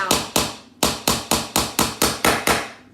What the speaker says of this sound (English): So don't hammer it all the way down if you see it like coming through or poking through or anything.